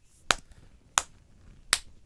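A single person clapping hands while watching a WWE Friday Night SmackDown broadcast, three sharp, isolated claps spaced under a second apart, close and crisp against near silence.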